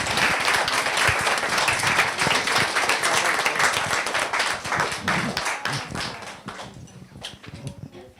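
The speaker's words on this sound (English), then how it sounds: "Round of applause, thank you." An audience at a Sangha Day Buddhist festival claps in a dense, lively round of applause that stays strong, then thins into scattered claps and dies away near the end.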